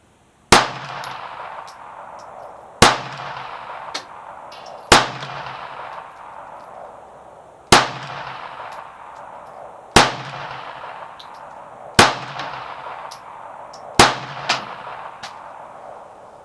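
Kel-Tec P-32 pistol shots ring out at an outdoor range, seven sharp cracks spaced about two seconds apart, each followed by a short ringing decay, with no talking.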